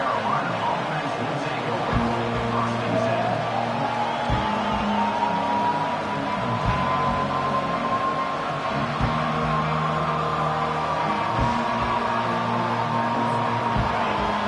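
Stadium crowd at a football game roaring and cheering steadily after a kickoff return tackle, a dense, loud wash of noise with horn-like tones sustained throughout.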